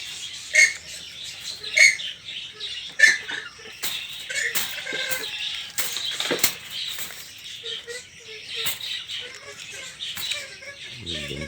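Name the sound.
kalim birds (purple swamphen) calling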